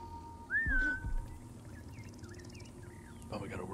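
A single clear whistle in Assassin's Creed Origins rises and then holds steady for about half a second, followed by faint chirping calls over a low steady in-game ambience.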